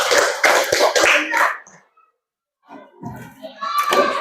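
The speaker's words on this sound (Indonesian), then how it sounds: "Beri tepuk tangan untuk kelompok 4." Fifth-grade classmates applaud a group of children in a classroom, a short burst of brisk clapping that fades out, then resumes after a pause amid children's chatter.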